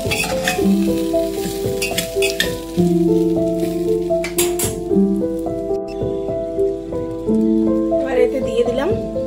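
Spices frying with turmeric powder in a pan, with a steady close sizzle and occasional stirring scrapes, while a person talks over it.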